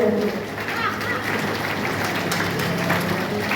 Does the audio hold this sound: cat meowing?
no